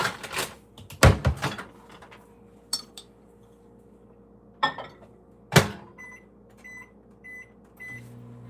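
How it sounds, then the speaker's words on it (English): A microwave hums steadily while a few clunks and clicks sound nearby, followed by a series of short beeps and a louder whirring rise at the end. "10 seconds at a time in the microwave"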